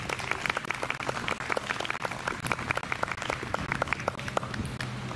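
Congregation applauding during a Sunday worship service in a church, a steady wash of many hands clapping with distinct sharper individual claps standing out throughout, moderately loud and without talk.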